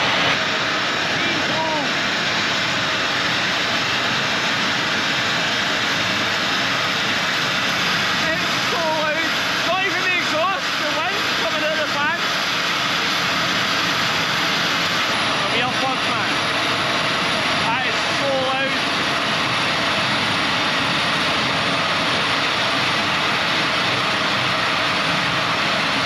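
Loud fans roar right beside the camera in a garage where an AMG A45 S has a new Milltek exhaust fitted, a constant broad rushing drone that swamps everything, with faint talk buried beneath it.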